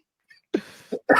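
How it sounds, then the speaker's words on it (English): Two harsh, close coughs, loud and abrupt with a short gap between them, preceded by a faint breathy sound. "I'm gonna cough my way to hell."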